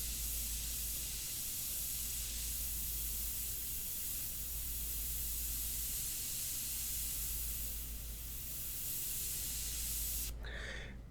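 Airbrush spraying India ink onto paper for a portrait, a steady soft hiss running continuously at close range with a faint click near the end.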